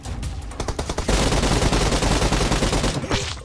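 Automatic gunfire in PUBG Mobile, a burst of rapid shots that builds into a dense, loud, sustained volley with heavy low thump, lasting about two seconds before tapering into a few scattered final shots.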